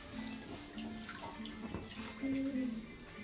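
Water pours steadily into a tub, a continuous splashing rush with a faint hum underneath and no talking.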